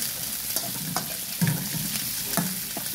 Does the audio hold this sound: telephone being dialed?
no